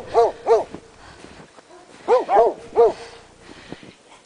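Dogs at a small animal shelter bark in short bursts, two barks followed by a pause and then several more, close and loud, with a faint whimper between.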